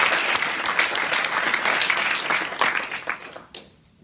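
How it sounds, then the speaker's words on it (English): Dense applause from an audience at a Buffalo Startup Week event at UB, a sustained wash of many hands clapping that thins and fades out in the final half second. "So let's give them a big round of applause"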